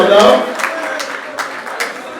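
Wedding guests applaud in a crowded hall, a dense burst of clapping that is loudest at first and then thins into scattered claps, with voices mixed in.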